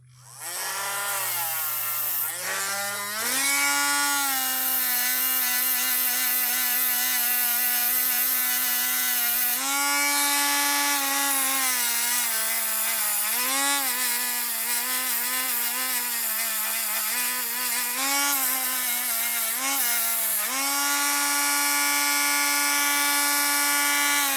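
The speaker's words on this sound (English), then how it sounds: "So we're going to take this Dremel. And we'll see if I can scrub it off of there" A Dremel rotary tool whines steadily as it scrubs conformal coating off the circuit board of a water-damaged Gallagher M160 fence charger. The tone is loud, close and continuous, and its pitch dips and rises as the bit bears down on the board.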